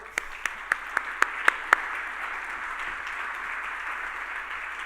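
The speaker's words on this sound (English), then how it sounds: "Please give a hand and a round of applause for our panel." An audience gives a panel a round of applause at a business event, opening with a few loud, distinct claps that quickly blend into a steady wash of clapping that carries on to the end.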